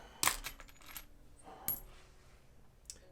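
Metal coins clink onto a tabletop during a Sleeping Gods board game, two sharp close clatters with lighter jingles between and a faint tap at the end, no talking.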